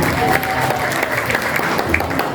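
An audience at a primary school event applauds loudly, a thick continuous roar of many hands clapping, with some crowd voices mixed in underneath.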